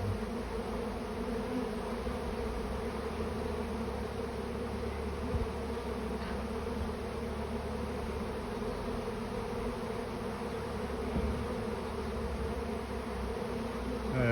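A honeybee swarm settles during a live swarming event, giving a steady, dense buzzing drone that fills the whole stretch at an even level, with no voices over it.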